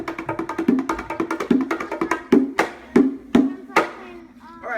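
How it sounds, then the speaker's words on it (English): Bongos struck by hand rather than with sticks, a quick run of close, resonant drum hits that loosens into a few slower, louder slaps near the end. "you actually use your hands, not sticks, to play the bongos, and they sound like this"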